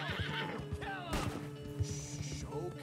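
A horse in Red Dead Redemption 2 gives a loud, close whinny, with hooves clopping and scuffing beneath it and a brief crash partway through.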